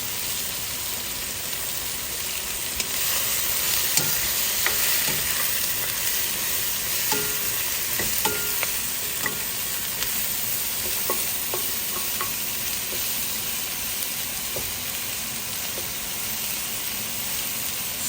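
Shallots and lime leaves fry in a pot with a constant bright sizzle, dotted with small irregular clicks and scrapes as they are stirred, close up and without any talk.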